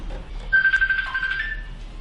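A mobile phone rings indoors with a thin, steady electronic tone that is fairly quiet and heard alone with no talking.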